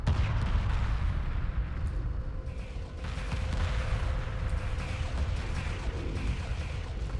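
Space battle in Homeworld Remastered, with a steady dense rumble of rapid gunfire and booming impacts as assault ships and missile corvettes clash, a continuous loud barrage throughout with no talking.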